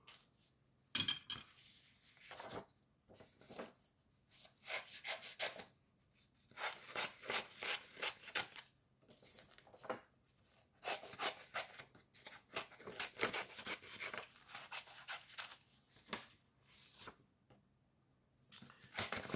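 Paper being cut out into rough shapes with scissors for a Halloween craft, heard as close, intermittent snipping and rustling bursts with short pauses between them.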